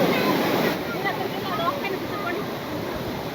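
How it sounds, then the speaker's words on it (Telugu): Water of Vibhuti Falls pours from above and rushes down in a steady, even roar that fills the whole clip, with faint voices mixed into the wash. "పైనుంచి వచ్చి కిందకి వెళ్ళిపోతున్నాయండి వాటర్."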